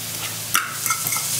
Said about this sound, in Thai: เราจะลงหมูบดลงไปไฟไม่ต้องแรงนะไฟอ่อนๆนะ